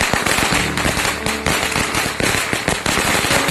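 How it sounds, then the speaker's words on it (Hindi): Rapid, loud Diwali firecracker bursts crackle and pop in dense clusters, sharp bangs overlapping nonstop with no pauses. "अपने चारों तरफ पटाखों की तेज आवाज"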